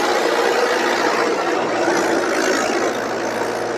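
John Deere and Mahindra tractors strain under a heavy load of 200 quintals, giving a loud, continuous engine drone with a low rumble that holds steady throughout.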